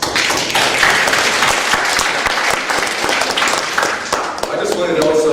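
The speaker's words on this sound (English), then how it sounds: "So give yourselves a round of applause." A conference audience at the CAA 2nd National Conference bursts into loud, sustained applause, a dense wash of clapping from many hands that continues steadily throughout without pause.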